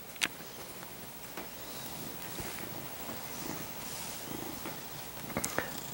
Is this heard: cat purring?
yes